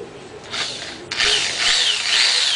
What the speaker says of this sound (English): This is a paint stirrer on the end of my drill.